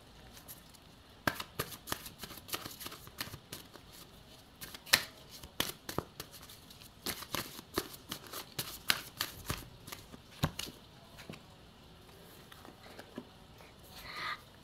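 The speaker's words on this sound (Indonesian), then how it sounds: "Kita shuffle oracle card untuk konfirmasi kartunya." Oracle cards shuffled by hand in a close, quiet room, giving irregular bursts of crisp riffling and soft slaps, with brief pauses between flurries.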